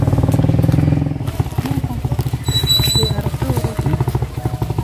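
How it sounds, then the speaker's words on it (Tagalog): A motorcycle engine putters close by with a steady rapid throb, rising slightly as it passes, with some rattling and a brief high squeal partway through. "May dadaan doon ng motor."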